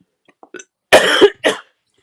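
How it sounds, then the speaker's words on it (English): Two sharp coughs close by, a harsh first burst followed quickly by a shorter second, after a few faint small sounds. "I do have a cough."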